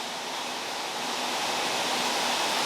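Water splashing from large arapaima fish thrashing at the surface during a feeding, a steady broadband wash of spray and churning water, close and continuous throughout without talk.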